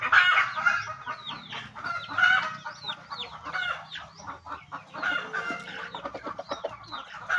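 Chickens cluck and chatter steadily in a poultry enclosure as a blind bird is released among them, the calls near and continuous with short sharp accents throughout.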